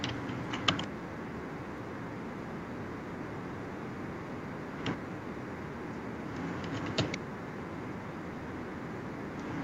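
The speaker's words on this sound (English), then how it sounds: "I'm typing." Keys on a computer keyboard clatter in a few brief clustered bursts against a steady hiss, quiet and close, with long gaps between the strokes.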